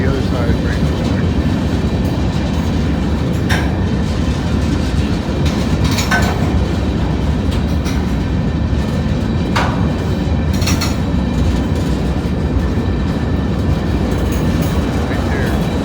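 A street-running train rolls through La Grange, Kentucky on a dreary day, a steady close rumble of wheels and cars with occasional clanks, voices murmuring over the passing noise.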